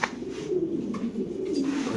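Pigeon cooing at a fancy pigeon farm, a soft low rolling coo repeated steadily over about two seconds, fairly close and clear with no talking over it.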